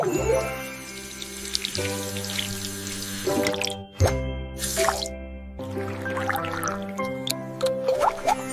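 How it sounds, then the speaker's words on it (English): Hands are washed under a running tap, with water splashing and plopping into a sink in bursts that stop briefly and restart, close and clear with no talk. "I wash my hands."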